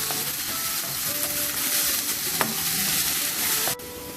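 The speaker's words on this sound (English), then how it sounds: "then we will add chopped onions. We will saute until brown" Chopped onions sauté in a pan for a restaurant-style aloo paratha, giving a steady close sizzle with a faint stirring scrape partway through, and the frying noise drops off sharply just before the end.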